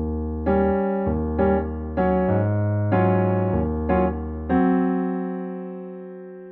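Piano chords from a passage of a song ring out as six or so separate struck chords in a syncopated rhythm, the last one left to decay slowly into quiet.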